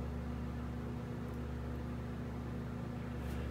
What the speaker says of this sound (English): We have the microwave running in here